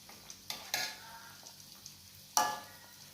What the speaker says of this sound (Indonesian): Kita goreng dulu ya, tuh sampai nanti berubah warna.